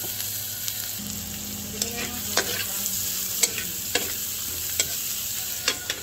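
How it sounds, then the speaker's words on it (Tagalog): Garlic and onion sauté in the oil left from frying salmon, a steady loud sizzle with repeated sharp scrapes of a spatula stirring the pan at a fairly even pace, close up and with no talking. "Ginigisa ko na po yung bawang at sibuyas"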